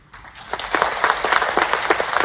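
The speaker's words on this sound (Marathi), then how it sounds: "टाळ्या वाजल्या" Audience at a workers' conference in Chhatrapati Sambhajinagar breaking into applause, many hands clapping in a dense, rising burst that quickly swells and continues steadily, fairly close.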